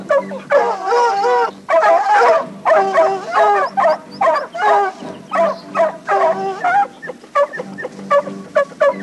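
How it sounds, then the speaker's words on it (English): Hounds baying at a mountain lion treed in a ponderosa pine, loud close howls and yelps in overlapping repeated bursts from several dogs, continuous throughout. "When the dogs find the cat up this ponderosa pine, their voices change, indicating the cat has treed."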